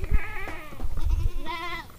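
Repeated quavering bleats from goats at a roadside rest area, near and fairly loud, two or three calls in quick succession with no talking.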